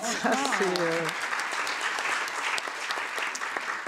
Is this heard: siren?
no